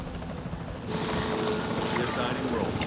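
A capture team helicopter flies in a dinosaur park video game during a passing storm, its steady rotor and engine drone swelling louder partway through, with wind-like rushing and game voices mixed in.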